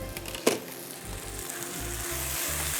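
Whole garam masala with dried red chillies and whole cumin seeds hit hot oil, setting off a sharp burst followed by a continuous close sizzle, with a low intermittent hum underneath and no speech.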